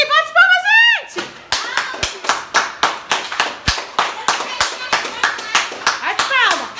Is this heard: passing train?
no